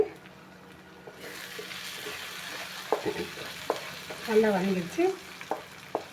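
A chilli mixture for chilli chapathi sautés in a pan with a continuous low sizzle and scattered spatula scrapes and taps, growing busier toward the end, and no one speaking.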